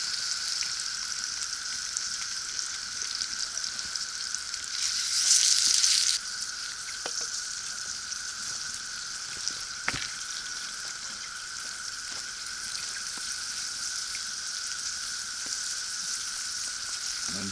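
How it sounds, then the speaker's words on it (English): Raw shrimp sizzle in a canteen cup over a camp stove, a steady hissing crackle that swells briefly louder early on, then continues evenly with occasional small pops and taps. "So here we go for the nice sizzle of raw shrimp."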